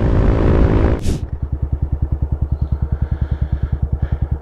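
Rushing wind roar cuts off abruptly, leaving a Yamaha Fazer 250 motorcycle engine thumping in a steady, rapid rhythm close by.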